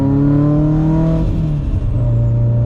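A 760-wheel-horsepower Subaru STI driving in cold weather, its engine droning loud and close with a steady low rumble and rising tones as it pulls, continuous throughout.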